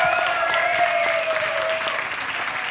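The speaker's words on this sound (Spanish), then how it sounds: "Un aplauso, por favor, para JJ Bajero." Audience applause for comedian JJ Vaquero at an interview event, steady and moderately loud, with a faint tonal whistle or cheer drifting over the clapping.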